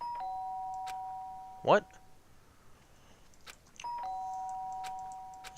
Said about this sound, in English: Sharp sound of a doorbell.